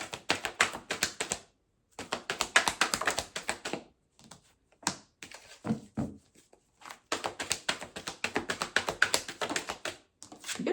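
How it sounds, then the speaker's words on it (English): A deck of tarot cards is shuffled close by in quick bursts of crisp, rapid riffling clicks, broken by short pauses and softer handling taps, with no voices. "I'm getting better at shuffling these cards."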